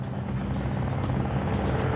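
A Bundeswehr military helicopter in flight gives a loud, steady rotor thrum with a pulsing low beat, constant and close throughout.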